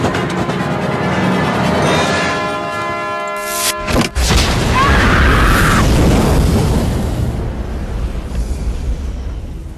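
A loud explosion in a thriller film, a sudden booming blast that follows a humming, tonal buildup and then rolls into a long, roaring rumble of fire and debris that slowly settles.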